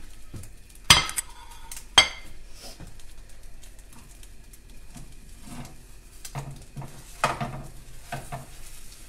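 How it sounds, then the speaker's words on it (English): Eggs are scrambled in a non-stick pan coated with cooking spray: a spatula scrapes and stirs over a soft sizzle, with two sharp clanks early on and scattered lighter clinks, close and fairly quiet. "So you're pretty much making scrambled eggs."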